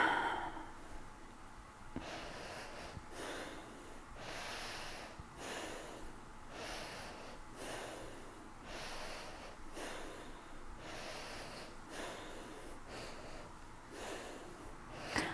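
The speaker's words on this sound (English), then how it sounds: "Deepen the breath." Slow, deep breaths during a breathing exercise with open hands and stretched chest, a steady cycle of long airy inhales and exhales repeating about every second or so, close and fairly soft with no talking.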